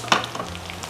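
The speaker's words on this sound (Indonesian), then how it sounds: "Kita mau goreng bawang putih sebentar" Garlic sizzles in a Tefal wok, with a brief scrape of stirring at the start over a steady crackling fry, close and unaccompanied by speech.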